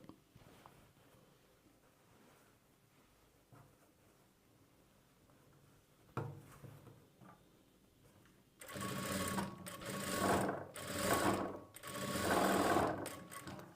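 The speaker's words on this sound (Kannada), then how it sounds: "ನಿಧಾನವಾಗಿ ಸ್ಟಿಚ್ ಮಾಡಬೇಕು" Sewing machine stitching the side slit of a churidar top, quiet at first with faint handling noises, then running in loud, fast bursts of rapid needle clatter with brief pauses between.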